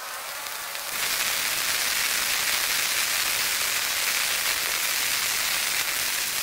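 Torrential rain comes on abruptly in Yarinacocha, a dense, loud, steady hiss of heavy downpour that swells after a second and then holds constant.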